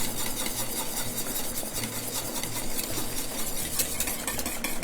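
A spoon stirs hollandaise sauce in a wide saucepan for eggs Benedict, giving a continuous close scraping and swishing with soft clinks throughout and no talk.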